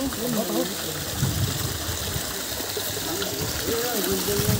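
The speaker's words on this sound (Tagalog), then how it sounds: "Umaagos dito tubig." A stream flows steadily along a hiking trail, giving a constant close rushing wash. People talk over it throughout.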